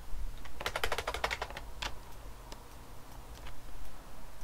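Computer keyboard keys pressed in a quick cluster of clicks while Ctrl is held, followed by a few sparser single taps, close and clear over a low background hum.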